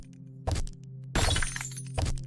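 Blocks smashed with a pickaxe in a simple blocky video game, three sharp crunching breaks in a row, the middle one longest, over a steady low game hum.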